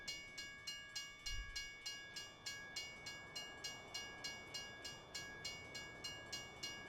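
Train in Farming Simulator 19 on a Pleasant Valley map, a quiet repeating rhythmic clatter pulsing about three times a second with steady tonal ringing, like a railroad crossing bell, and a brief low thump early on.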